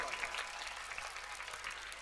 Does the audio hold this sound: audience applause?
yes